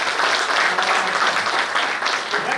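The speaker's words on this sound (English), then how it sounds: "I think it deserves a really big round of applause" An audience at a business growth summit gives steady applause after a session: dense, even clapping from a roomful of people at moderate loudness, with a voice faintly under it.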